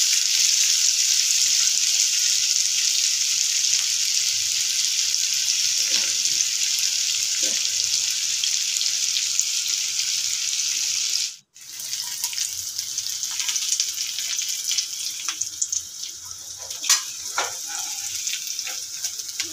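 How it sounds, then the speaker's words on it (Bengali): Green and dried chillies frying together in a pan, giving a steady loud sizzle throughout with a brief dropout near the middle, then continuing with light clinks of stirring. "একসাথে ভাজা হচ্ছে।"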